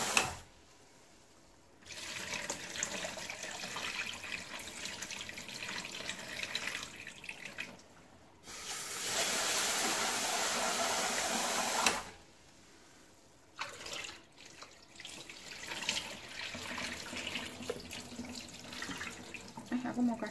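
Rice being rinsed under a running kitchen tap, a steady splashing water stream in several bursts with brief pauses between, the loudest stretch in the middle; faint speech is heard now and then.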